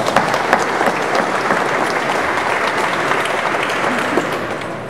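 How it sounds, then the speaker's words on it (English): Sustained crowd applause at a Friday night marathon celebration event, a dense steady wash of clapping from a large audience with a few sharper claps near the front, no talk over it. "So a round of applause for those individuals."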